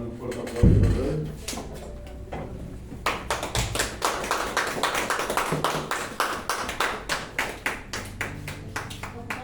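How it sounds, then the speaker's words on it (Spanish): A church congregation breaks into applause after a pause with a stray thump; many hands clap loudly and densely for several seconds. "Vamos a dar un fuerte aplauso"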